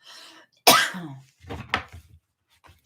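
One harsh cough close to the mic, followed by brief low throat sounds and soft rustling.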